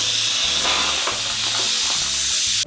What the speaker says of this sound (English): Vent the pressure cooker out and make sure safety first.